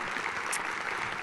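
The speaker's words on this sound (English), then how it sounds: "Round of applause for Sally." A church congregation claps in steady applause, a dense, even patter filling the room without pause.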